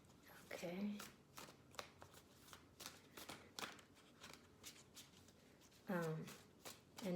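Tarot cards shuffled by hand produce crisp, rapid riffling bursts, with quieter card taps and handling between them and a nearby voice talking over parts of it.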